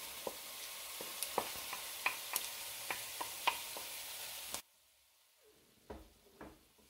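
Bacon goes into a pan of onions and brown sugar over low heat, crackling and sizzling with sharp utensil clicks and pops before the sound drops away abruptly, followed by a few faint scrapes.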